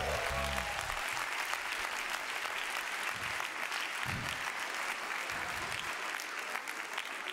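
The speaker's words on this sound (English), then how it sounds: "Give yourselves a hand." Gospel concert audience at a live festival applauding steadily, dense and sustained clapping filling the room from start to finish with no break.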